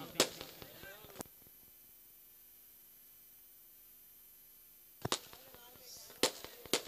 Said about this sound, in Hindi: यहाँ पर पटाखों की आतिशबाजी